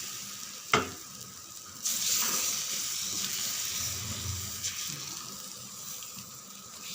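Dosa batter made with semolina sizzles steadily on a hot pan after a sharp clink, with scraping and faint rustles over the constant hiss.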